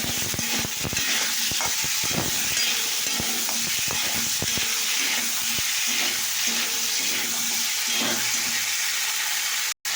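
Spices with chilli and salt fry in a hot pan, giving a steady, loud sizzle broken by repeated scraping stirs from a utensil, with no talking.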